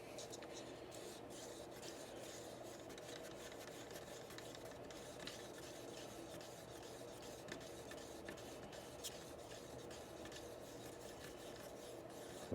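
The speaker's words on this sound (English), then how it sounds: "you don't want to stir so vigorously that you're adding a bunch of bubbles into your paint" A stick stirs acrylic pouring paint in a cup, giving a faint, continuous scraping and rasping rub that goes on steadily throughout.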